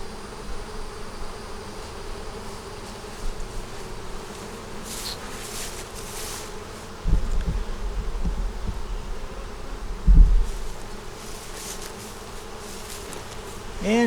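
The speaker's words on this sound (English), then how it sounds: "Pretty good bunch of bees up here in the top" Bees hum steadily around an opened hive, with a dense, continuous buzz near the listener and louder swells as individual bees pass close by.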